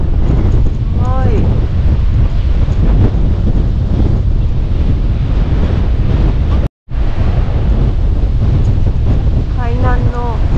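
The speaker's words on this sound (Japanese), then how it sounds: "風がものすごく強いです。" Very strong wind buffets the microphone at the seaside rocks of Jogashima Park, a loud continuous roar with surf underneath, a brief dropout, and faint voices near the end.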